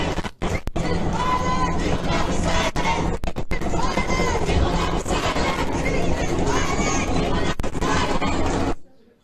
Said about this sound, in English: Here's the crowd chanting outside Shapiro's speech about his speech being violent